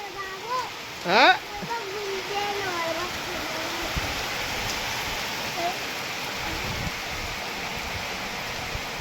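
Steady, dense heavy rainfall in Shevgaon, Ahmednagar, hisses evenly throughout, with a short bird-like chirp and a faint voice near the start.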